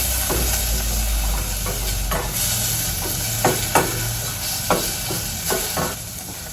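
Garlic and tomatoes sauté in a hot pan for Filipino ginisang monggo, giving a steady sizzle and hiss throughout with occasional clacks and scrapes from a stirring utensil toward the end.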